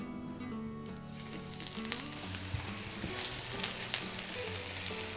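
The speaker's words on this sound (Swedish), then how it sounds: "Och de här ska jag bara steka nu så att de får lite stekyta." Steady sizzling of potatoes frying cut side down in a hot pan, a continuous crackle with occasional louder pops and scrapes.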